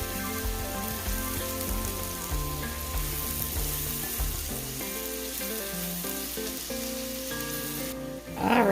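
Chopped onion and garlic sautéing in a pan give a continuous, even sizzle under loud background music, with a sharper burst of frying noise near the end.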